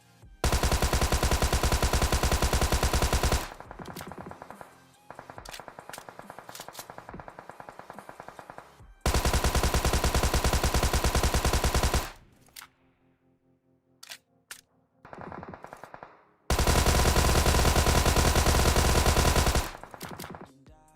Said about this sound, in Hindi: टॉमी गन या फिर थॉमसन जो है, अगर आप उसको लेट के फायर करते हो तो उसका रिकॉइल ज़्यादा हो जाएगा